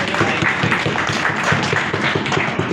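An audience at a union meeting claps together in a dense, steady round of applause that stays fairly loud and even throughout.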